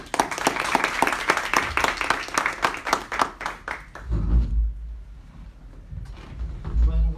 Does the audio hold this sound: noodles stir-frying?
no